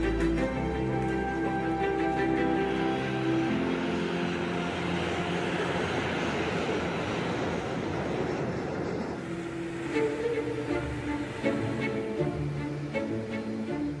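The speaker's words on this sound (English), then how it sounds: "In just 47 minutes, the flight to Brussels is ready to depart again." An airliner departs Heathrow for Brussels, a loud steady roar of jet engines that swells then eases slightly, heard alone without voices.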